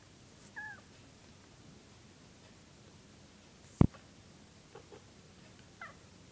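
A house cat gives a few faint, short squeaky meows and chirps, separated by quiet pauses and one sharp close tap, in a quiet indoor room.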